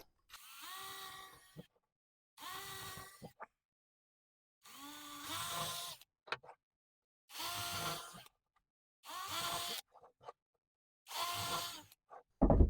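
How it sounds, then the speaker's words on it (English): A power drill with a 1/8-inch bit whirs in six separate bursts, each a second or so long, separated by silent pauses, close and fairly loud, drilling into a wooden beehive top feeder. "I drilled with a 1/8 drill bit"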